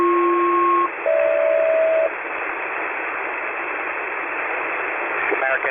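SELCAL tone check over HF aircraft radio on the New York oceanic frequencies: two paired tone bursts, each about a second long, sound through a band-limited, hissing radio channel, followed by steady static.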